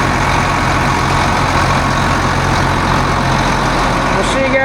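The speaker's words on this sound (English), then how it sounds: "We'll let the tractor cool down a little bit. Then we'll shut him off." A tractor idles in a shed after a day of spring tillage ripping, a loud, steady low rumbling drone with constant engine hum throughout, near and unbroken.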